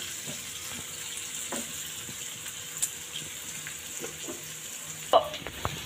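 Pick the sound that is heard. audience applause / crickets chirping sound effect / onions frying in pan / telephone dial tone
onions frying in pan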